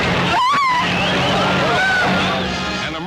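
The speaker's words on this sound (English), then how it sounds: "Trying to avert a collision, Shorty Cantlin swerves sharply and his car goes out of control." Race car at a speedway, driven by Shorty Cantlin, swerving sharply and skidding out of control, heard as a loud, close tire screech with wavering squeals over a roaring engine and crowd babble, fading over a few seconds.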